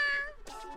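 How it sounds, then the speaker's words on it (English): A cat meows in the visual novel The Fruit of Grisaia, giving one clear, drawn-out meow followed by a shorter, softer second one. "He really wants to meow at the moment."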